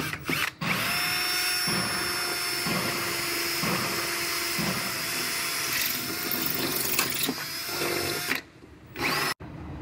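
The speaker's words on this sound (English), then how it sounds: "I'm gonna go ahead and drill my holes for the rivets." A power drill whines continuously into a car body panel, drilling rivet holes in a body shop, bursts of drilling close and loud with brief pauses near the end.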